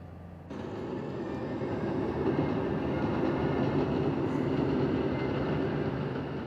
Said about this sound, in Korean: 방금 도착한 화물 열차에 철광석이 가득 실려 있다.